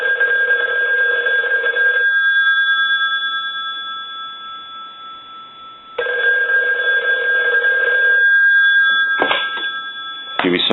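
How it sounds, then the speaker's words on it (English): An ITT rotary desk telephone's bell rings loudly in two long bursts separated by a pause, followed by a couple of short clicks and rings. "I'm going to go ahead and ring this telephone"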